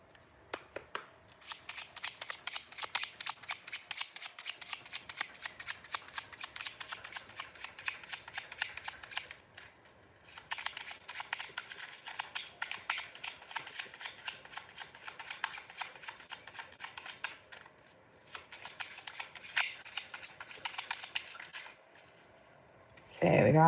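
A deck of tarot cards is shuffled by hand in long runs of dense, rapid riffling and flicking, pausing briefly between bursts, close and crisp throughout with no talking.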